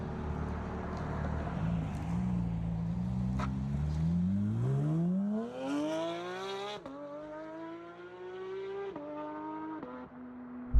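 A BMW straight-six engine revs up loudly and close, its pitch climbing steadily into a high sustained wail, then dropping back in several quick shifts before settling at a steady idle-like drone.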